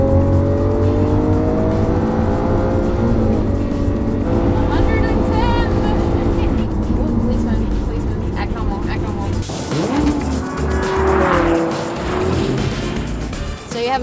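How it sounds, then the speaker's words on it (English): A Lamborghini Aventador on a New England road dropping a gear and accelerating, a loud engine note climbing in pitch through the revs, then a brief shift and a fresh surge of roaring acceleration, close up, with a voice talking over it. "I cannot believe I am about to drive an Aventador Lamborghini in New England."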